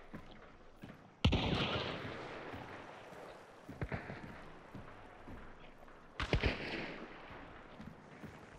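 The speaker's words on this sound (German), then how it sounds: "Von hinter mir kam noch ein Schuss." Sharp gunshot cracks in the Hunt Showdown 1896 video game, including a sniper shot from behind, with two loud reports about five seconds apart, each trailing into a rumbling echo over a dark outdoor ambience.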